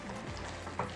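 Poppy seed paste sizzling in hot oil while being stirred, a brief, quiet frying hiss with one short scrape near the end.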